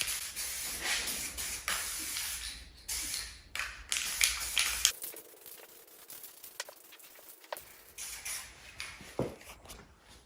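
A 1979 Honda XR500 motorcycle frame gets spray painted: bursts of aerosol hiss start and stop in short passes, close and fairly loud, with a quiet pause partway through.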